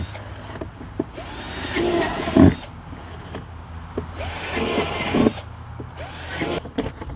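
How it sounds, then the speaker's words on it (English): Bursts of a power drill whirring in short pulses, a few seconds each, drilling holes in a plastic container, with quieter handling sounds between them, close by. "I got a drill, I felt like drilling."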